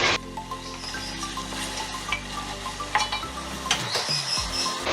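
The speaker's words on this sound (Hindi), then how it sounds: "मज़ीद इसको 1-2 मिनट भूनेंगे" Meat and spices fry in a pot for aloo gosht while a spoon stirs and scrapes, making a steady sizzle broken by metallic clinks and scraping strokes close by.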